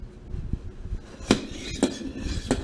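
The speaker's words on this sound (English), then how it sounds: "it comes with a tool, but I don't feel like going and getting it, so I'm just going to use a screwdriver" Screwdriver prying at a metal retaining ring on a car headlight bulb, giving three sharp metallic clicks and clinks spaced about half a second apart over a low background rumble.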